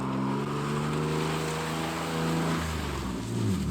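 Car engine revving steadily for a drift run, then a clutch kick that makes the engine note jump and shift; loud, continuous, close-up, with no talking.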